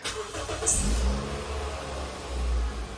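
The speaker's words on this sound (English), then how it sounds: "So I'm gonna start the car now." A Toyota Yaris Verso 1.3 engine with a faulty idle control valve turns over and catches, then revs up and settles into a low rumbling run, fairly close.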